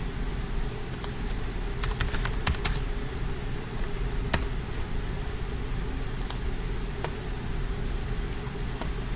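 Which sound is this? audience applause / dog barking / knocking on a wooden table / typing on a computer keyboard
typing on a computer keyboard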